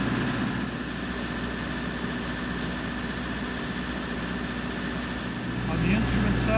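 A 1999 MEP-803A Tactical Quiet Generator runs with a steady, low diesel drone. Its pitch stays constant, and the engine swells slightly near the end.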